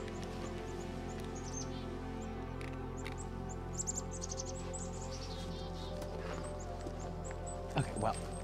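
Wild birds calling outdoors, with light, high chirps clustered through the middle and again near the end, fairly faint over a steady low hum.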